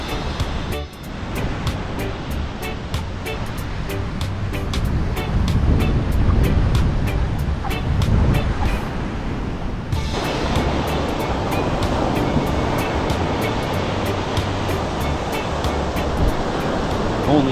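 Ocean waves break and wash steadily onto a beach, a continuous loud surf roar with gusty wind buffeting the microphone throughout and no voices.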